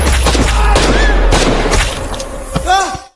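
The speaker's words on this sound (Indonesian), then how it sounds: "hingga baku tembak terjadi di sana" Loud bursts of gunfire in an Indian film crack and boom in quick succession over a rumbling low soundtrack, with a brief voice near the end.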